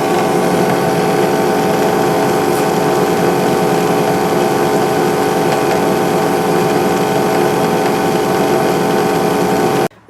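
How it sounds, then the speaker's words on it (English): Drill press spinning a buffing wheel against a small hatchet head for polishing, a steady loud whirring drone with a dense grinding hiss that runs unbroken to a sudden stop at the end. "I just attached like a buffing wheel on my drill press here, and I'm just gonna buff it out"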